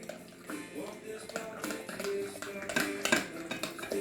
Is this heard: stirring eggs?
yes